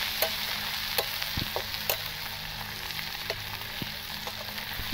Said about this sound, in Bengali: লঙ্কার গুঁড়ো, এরপর আমি ভালো করে কষিয়ে নেব